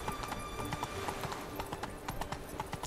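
A horse ridden in the video game The Witcher 3 trots steadily, its hooves clip-clopping in a quick, even rhythm over a dense, continuous game background.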